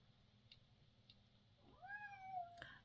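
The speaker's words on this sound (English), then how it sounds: "Yes, kitty cat. He's begging to go out" A male house cat gives one drawn-out, rising-then-falling meow near the end, begging to be let outside; quiet room hum and a couple of faint soft taps come before it.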